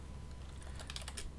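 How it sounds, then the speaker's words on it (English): Quiet keystrokes tap on a computer keyboard in short irregular bursts, with a quicker cluster near the end over a low background hum. "I'm sorry, I'm typing."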